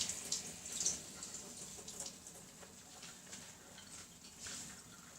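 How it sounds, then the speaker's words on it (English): Tap water running into a kitchen sink while hands are washed, a steady soft hiss with faint splashes, fairly quiet and alone. "Just going to wash my hands quick."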